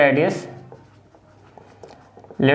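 Marker or chalk scratching out a written statement on a board during a math lesson, soft intermittent strokes between bursts of a man's speech in Hindi.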